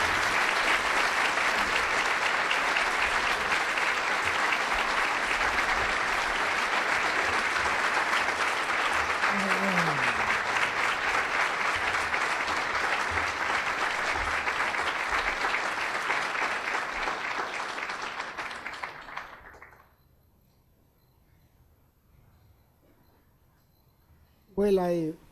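An audience welcomes Father Gustavo Gutierrez at Boston College with long, steady, loud applause that holds for about twenty seconds before fading out, and then near silence follows.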